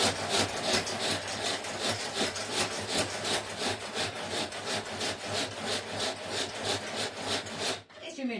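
Egg, cream, flour, mustard, salt and pepper are stirred by hand in a bowl for tuna mini donuts, making a loud, close, continuous rhythmic scraping and rubbing that stops abruptly near the end, with no speech.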